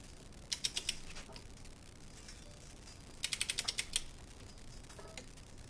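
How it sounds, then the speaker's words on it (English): A torque wrench tightens bolts to 20 foot-pounds on a Toyota 4Runner during a Bilstein 6112 front lift install: two bursts of quick, close ratchet clicks separated by quiet. "now we just torque it down to 20 foot-pounds"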